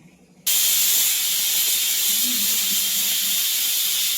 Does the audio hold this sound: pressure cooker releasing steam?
yes